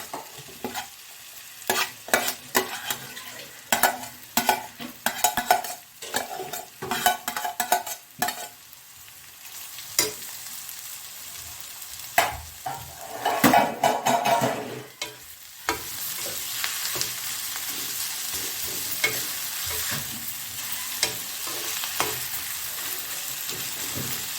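Shark meat rubbed with turmeric hitting a pan of sautéed onions: close spatula scrapes and clatters come first, then a steady, fuller sizzle continues alone.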